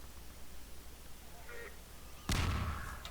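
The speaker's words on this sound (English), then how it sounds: "Gordon, lob a couple grenades. That'll clear them out." Grenade explosion in the video game Half-Life 2, a single loud broadband blast erupting suddenly after a quiet stretch of game ambience and then decaying over a second or so, with faint talk earlier.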